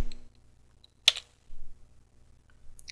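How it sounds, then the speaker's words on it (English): A crontab command being typed on a computer keyboard, a few sparse, close key clicks separated by quiet gaps. "Now let's take a look at the cron tab by typing in cron tab with the -L option to display."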